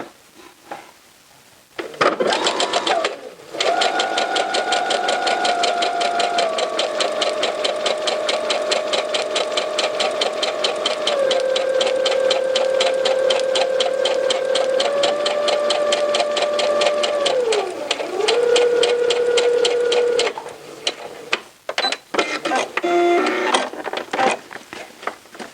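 A sewing machine stay stitching the pieces of light-coloured fabric for cropped pants runs in long, steady bursts of rapid stitching, its motor pitch shifting as speed changes, with brief pauses and handling noise near the end.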